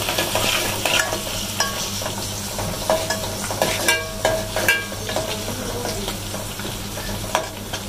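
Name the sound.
onions and cumin frying in a pan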